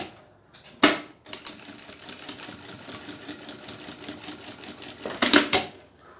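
Domestic sewing machine topstitching the lining of a crossbody bag, running in a continuous rapid mechanical patter between louder clicks and handling noises at the start and end.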